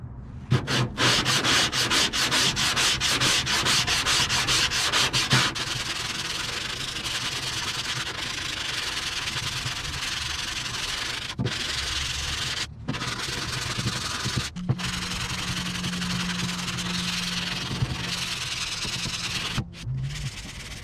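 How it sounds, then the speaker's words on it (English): Body filler on a Honda CRX is sanded by hand, with rhythmic rasping strokes that start fast and choppy, then settle into steady scrubbing with a few short pauses, close and continuous. "and we'll get to sanding."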